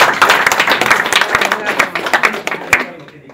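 An audience at a regional Quechua language workshop bursts into close, lively hand clapping that thins out and stops after about three seconds, with a few voices mixed in.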